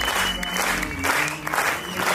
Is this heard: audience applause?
yes